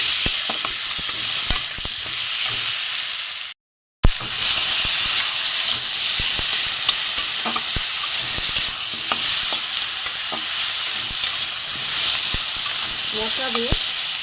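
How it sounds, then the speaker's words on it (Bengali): Salt, turmeric and chili powder sauté in a hot pan for a mustard-paste fish dish, giving a steady close sizzle with stirring scrapes throughout and a brief dropout partway through. "এর মধ্যে আমি নুন দেবো, হলুদ দেবো, লঙ্কার গুঁড়ো দিয়ে দেবো। দিয়ে আমি এটা ভালো করে কষবো।"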